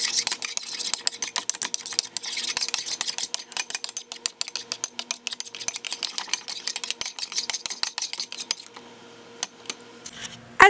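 A spoon stirs salt into dish soap for water slime, giving a dense run of quick, sharp clicks and scrapes close by that thins out into a few isolated taps toward the end.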